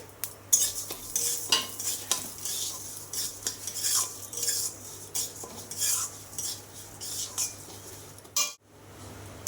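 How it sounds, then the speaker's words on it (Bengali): A spoon scrapes and clinks against a pan while moong dal fries in a little oil with a soft sizzle underneath, the stirring strokes irregular and close. "এই যে মুগের ডালটা আমি ভেজে তুলে নেব আগে"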